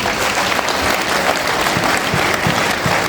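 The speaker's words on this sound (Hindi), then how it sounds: "जो कपल साथ में बैठे हैं उनके लिए दिल खोल के ताली बजाएं।" An audience claps warmly for couples seated together at a motivational seminar, dense applause that stays loud and even throughout the short burst, with no talking over it.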